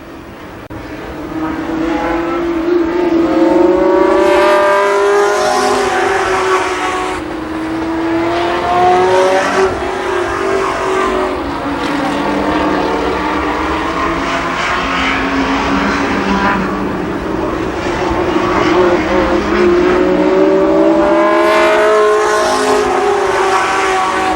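Limited sportsman race cars running an eight-lap heat race at a speedway, loud engines roaring and rising in pitch as the cars sweep past in waves, near and steady throughout.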